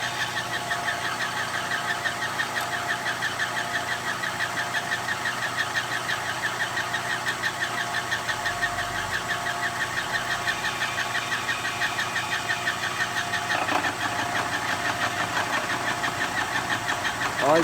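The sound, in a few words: machine cutting splines on an axle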